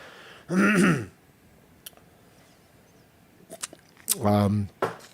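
A man clears his throat twice, a short rough burst near the start and another near the end, with faint clicks between them.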